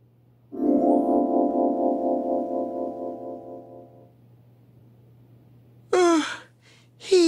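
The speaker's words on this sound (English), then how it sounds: "Oh, he's yawning." A person yawns once in a long, drawn-out voiced exhale that fades over several seconds, followed by brief talking.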